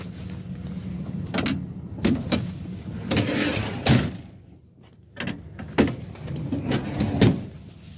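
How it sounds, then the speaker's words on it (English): The doors of a 2016 Mercedes-Benz Sprinter 514 CDi wheelchair-accessible minibus are shut one after another, giving several sharp thuds and latch clunks at irregular intervals with rattles and handling noise between them, close and fairly loud. "You're going to have to bear with me now while I shut the doors one-handed."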